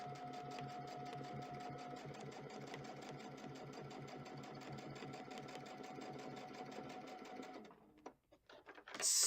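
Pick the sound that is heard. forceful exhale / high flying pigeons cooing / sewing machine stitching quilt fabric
sewing machine stitching quilt fabric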